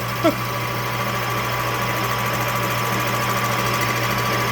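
Lathe cutting a Dolmar 6400 chainsaw cylinder on a mandrel, a steady mechanical hum with a constant low drone and faint high whine, running evenly and moderately loud with no talk.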